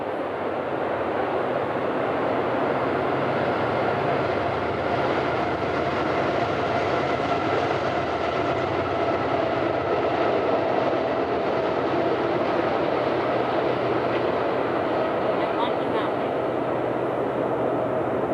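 A train rolls past a forest campsite at night, a steady, loud broadband rumble that holds for the whole stretch, with faint rail clatter mixed in and low voices murmuring underneath.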